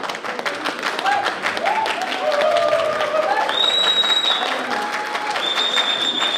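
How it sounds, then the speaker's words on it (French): An audience at a French competition event breaks into sustained applause, a dense wash of clapping that holds steady throughout, mixed with crowd noise and a few whistles. "Il faut applaudir, hein, mesdames et messieurs"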